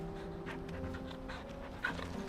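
A very big dog pants steadily in the Final Fantasy 16 video game, quick rhythmic breaths close up over a low game soundscape with faint ambient tones.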